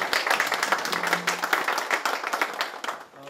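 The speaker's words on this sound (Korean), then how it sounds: "다시 한번 우리 축사를 해주신 신원철 의장님께 감사의 박수 부탁드리겠습니다" An audience at a Seoul city council forum on the Hangang Bridge centennial bridge plan applauds the council chairman after his congratulatory speech; thick, continuous clapping that thins out and fades near the end.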